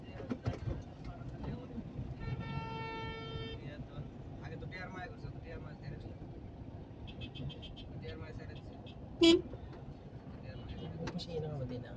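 Car horns honking in a traffic jam in Jeddah, with short toots and one sustained tone early on, then scattered beeps and a loud sharp blast near the end, over street noise while people talk nearby.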